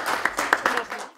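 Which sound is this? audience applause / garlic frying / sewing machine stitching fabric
audience applause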